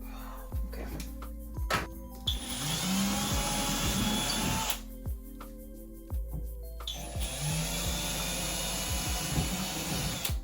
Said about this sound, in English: I have all my holes drilled for my drywall anchors